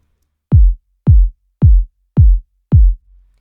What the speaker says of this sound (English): this is going to be my low kick